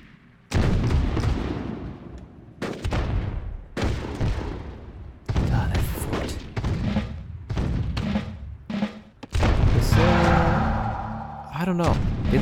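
Units in the strategy game Rise of Nations fire on a city in loud, repeated bursts of cannon and gunfire that come in clusters with short gaps, while a voice talks over the battle.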